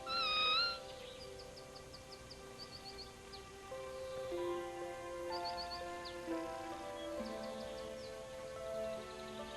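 Thin, high-pitched kitten mews repeat every few seconds in a barnyard, fairly faint over a soft background with faint bird chirps.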